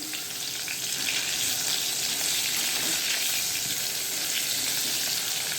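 Brinjal (eggplant) slices fry in a home kitchen pan with a steady, even sizzle that holds at one close level throughout, with no voices over it.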